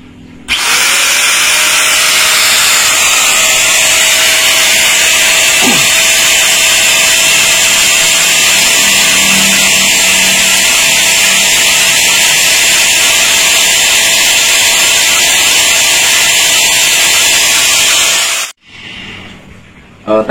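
A Wipro WP34HD angle grinder spins up and runs without load, a loud steady high whine held evenly for about eighteen seconds before cutting off abruptly and winding down.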